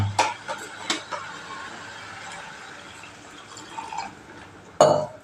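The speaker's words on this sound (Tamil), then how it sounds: "தண்ணி ஊற்றணும்." Water is poured into a chicken gravy seasoned with chicken masala and garam masala, a close, soft liquid pour framed by a few clinks of a vessel at the start and a louder clatter near the end.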